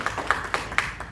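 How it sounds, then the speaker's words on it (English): Audience applause at a history club gathering, a short burst of a few sharp, separate claps about a quarter-second apart, close and fairly loud with no voices. "give a big round of applause for him"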